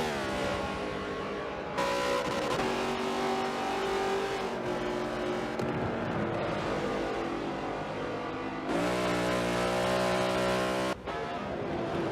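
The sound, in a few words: race cars in a NASCAR racing video game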